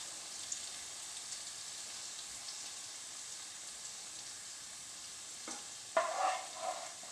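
Pomfret coated in freshly ground masala fries in a kadai with a steady, soft sizzling hiss, then a few close scraping stirs near the end.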